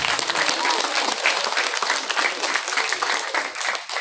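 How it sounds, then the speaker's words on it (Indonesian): Applause for class 7E at a school madrasah gathering, a sustained burst of many hands clapping, loud and dense from start to finish, with some voices mixed in. "Kasih tepuk tangan."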